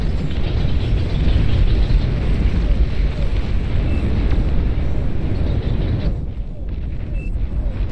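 Heavy airstrike explosions rumble in Beyond All Reason, a real-time strategy game, forming a loud, continuous low roar of overlapping blasts that eases slightly toward the end.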